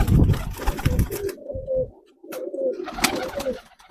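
Pigeons cooing at close range, with soft throaty rolling coos in short phrases, broken by a pause and mixed with rustling and handling noise.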